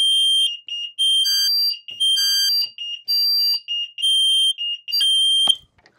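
A smoke detector set off with canned aerosol smoke sounds a loud, piercing high-pitched alarm in repeated rhythmic bursts, close to the microphone, with a few faint clicks and handling noises between beeps.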